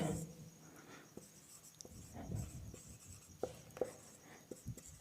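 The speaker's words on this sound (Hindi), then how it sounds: "एक सेंटेंस हम और लिखेंगे" A sentence being written by hand with a pen or chalk during a grammar lesson, producing faint scratchy strokes and light taps spread irregularly across the clip in a quiet room, with some soft voice sound in the background.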